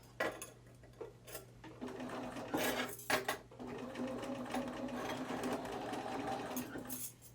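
Sewing machine running in bursts as it stitches the seam of a triangle zipper bag, a steady mechanical whir with brief pauses between runs, close and clear.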